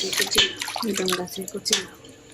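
Water splashes and drips as a freshly cut young bottle gourd is washed by hand in a village kitchen, with irregular sloshing bursts and a voice speaking over it.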